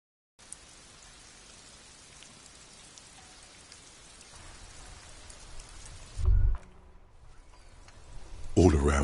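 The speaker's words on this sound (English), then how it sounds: "All around you, rain falls on the great city of Revachol. Rain drips from the eaves and floods the gutters" Steady rain falls over a city in the Disco Elysium game, a continuous soft hiss of drops with a few louder thuds and a swell of noise toward the end.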